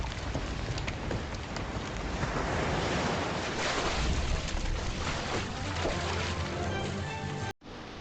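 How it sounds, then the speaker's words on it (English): Sea waves wash and slap against a moving sailing boat as wind buffets the microphone, a dense, loud, continuous rushing roar that cuts off abruptly near the end. "The sail cuts through waves"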